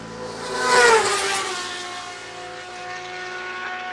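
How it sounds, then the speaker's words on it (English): A 400cc Super Mono racing motorcycle at a road race, engine revs climbing and swooping through quick downshifts into a corner, loud and close at first, then a steadier drone as it moves off. "Just listen to the revs of that wee 400 as he drops down the cogs in the Gorton corner."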